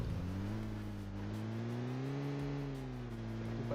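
A vehicle engine in PUBG Mobile drones steadily as it drives, its pitch rising and falling gently in a continuous, moderately loud hum with no other sounds.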